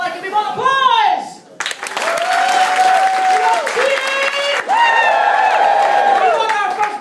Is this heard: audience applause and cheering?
yes